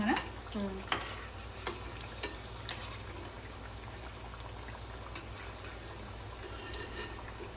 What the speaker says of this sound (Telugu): అందుకని ఇంకా కొంచెం వేగాలి.